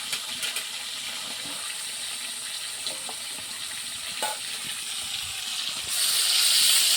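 Tap water runs steadily while a dropped piece of rohu fish is rinsed in a home kitchen, a continuous broadband wash with a few small knocks, growing louder and gushier near the end.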